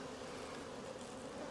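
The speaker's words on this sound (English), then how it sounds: "Look at all those nurse bees." Nurse bees crowd a cell builder hive frame, giving off a steady, dense buzzing hum, close and continuous with no pauses.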